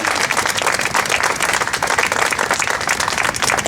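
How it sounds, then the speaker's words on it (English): Dense, steady applause from an outdoor community crowd celebrating a new protected bike lane in Providence, loud and continuous throughout with no voices over it. "Please, a big round of applause"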